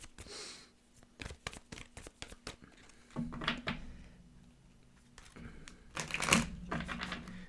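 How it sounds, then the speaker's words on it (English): Tarot cards being shuffled by hand in a series of quick riffling bursts and soft slaps, with a low hum beneath and louder flurries of card noise near the end, no talking. "So let's continue shuffling here."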